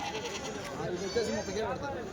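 Goats bleat a few times, short wavering cries mixed into steady nearby conversation at a goat market in Kadiri.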